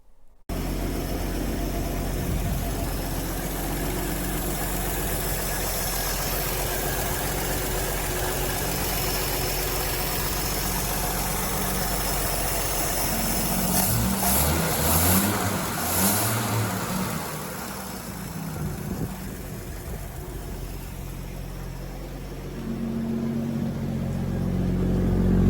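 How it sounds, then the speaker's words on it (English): 1948 Chevy Sedan Delivery engine running normally, a steady idle rumble with a brief rev in the middle, loud and close with no talking. "insert video of the 48 Chevy Sedan delivery running normal."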